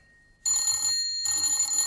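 Telephone bell ringing in an empty house in a 1950s radio crime drama, two loud electric ring bursts separated by a short pause, with no voices.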